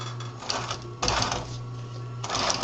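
A sewing machine runs in bursts while stitching Velcro onto a messenger bag, its steady mechanical whir close and fairly loud, pausing briefly between runs as the material is pushed along.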